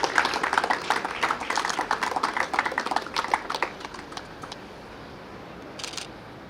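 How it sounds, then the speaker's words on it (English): An audience claps at a graduation ceremony for a technology training centre. Dense, brisk clapping runs for about four seconds, then trails off into a few scattered claps and room quiet. "Give a big clap."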